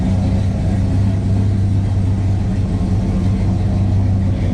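A Pontiac GTO engine, fired up for the first time in six months, rumbles steadily and deeply at close range with no clear rise in revs, and no one speaks over it.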